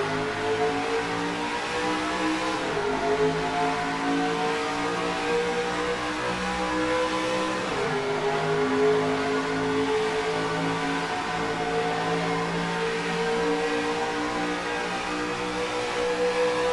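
Dozens of race truck engines from NASCAR Racing 2003 roar together at a green-flag start of a Toronto Lakeshore playoff race, a loud continuous drone that climbs through gear shifts, with no talk.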